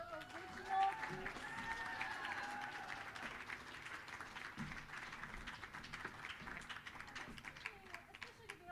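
A concert audience applauds Lex after her original guitar-and-vocal song at a spring concert, steady medium-distance clapping from a crowd with a brief whoop near the start and murmuring voices underneath.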